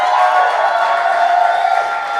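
A comedy club audience cheers and roars loudly and continuously in a dense, sustained wash of crowd noise.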